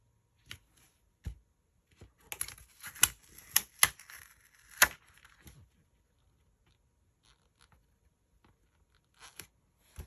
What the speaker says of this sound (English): I'm just going to trim it along this black edge.